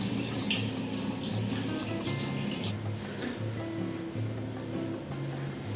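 Water running steadily from a tap while someone washes their face, a continuous splashing stream with no talking.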